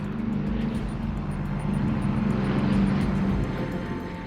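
A B-29 bomber, the Enola Gay, carrying an atomic bomb on its flight to Hiroshima, gives a steady, continuous piston-engine drone, loud and even throughout.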